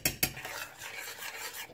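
A spoon scrapes and clinks against a pan while sweet and sour sauce with soy sauce, paprika, and pineapple-banana mix is stirred; two sharp clicks open, then softer scraping continues close and alone.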